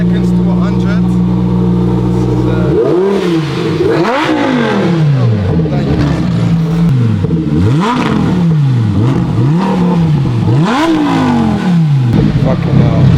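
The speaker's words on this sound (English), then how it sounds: "No, this is just normal exhaust. Just a beautiful sound to wake up the house." A supercar with forged carbon bodywork and stock exhaust revs hard, loud and close, in repeated rising-and-falling sweeps of roughly a second each, with a person talking over it.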